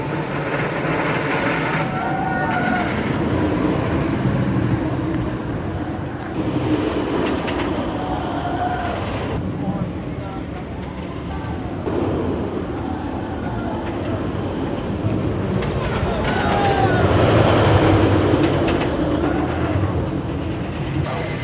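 Wildcat's Revenge roller coaster at Hersheypark rumbles and roars continuously along its track, with rattling clatter and rushing wind throughout a loud, close ride.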